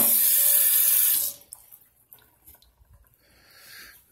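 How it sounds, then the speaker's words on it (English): Tap water runs loudly from a faucet into a sink, rinsing cleaner off a corroded circuit board, then cuts off after about a second, leaving faint handling and dripping sounds. "Try to get it rinsed off real well."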